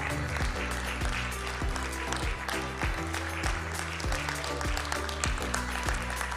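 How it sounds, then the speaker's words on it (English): An audience at a business forum plenary session applauds over a looping music track with a steady bass beat, the clapping forming a continuous crackle on top of the music and no speech. "clapping for one more time"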